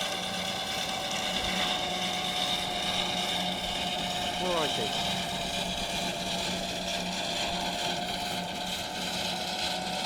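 A steam traction engine runs steadily at a Gloucestershire steam rally, a continuous near rumble with a firm low hum, and a voice speaks briefly over it.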